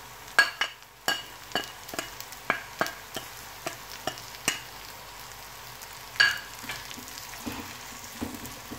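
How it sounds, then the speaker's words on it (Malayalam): Prawns coated in turmeric and chili powder fry gently in a pan, a quiet low sizzle broken by a series of regular sharp utensil taps and scrapes against the pan. "അതിന് മുമ്പ് നമ്മൾ ആ ചെമ്മീനും പൊടികളെല്ലാം കൂടി ചേർത്ത് വെക്കുക"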